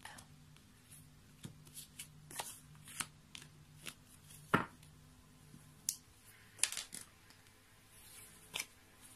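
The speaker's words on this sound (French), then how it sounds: "donc on va couper le jeu" Tarot cards being cut and shuffled by hand, with soft irregular riffles, slaps and rustles scattered over several seconds, close and fairly quiet, with a voice speaking French at times.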